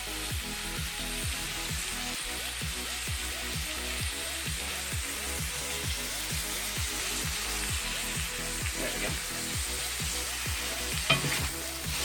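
Mushrooms, onions and carrots sizzling in a pan for a chicken stir fry, with a constant hiss and rapid, rhythmic scraping strokes of a spatula repeating throughout, fairly close.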